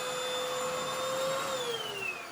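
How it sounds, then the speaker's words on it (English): Vacuum cleaner running steadily over a small section of floor, a constant whirring drone with a high whine that dips slightly in pitch near the end. "We're just going to vacuum this little section."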